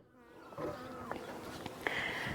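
Honeybees buzz steadily at an opened backyard hive, a soft, close hum with a few individual bees flying past louder.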